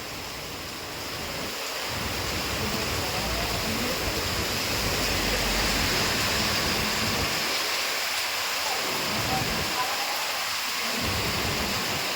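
Dense, steady broadband hiss of heavy rain in Lonand fills the scene, swelling after the first couple of seconds and staying loud throughout.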